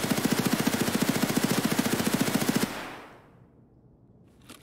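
HK rifle in Escape from Tarkov firing a rapid, steady full-auto burst of about twenty-five evenly spaced loud shots, then cutting off abruptly into a fading echoing tail.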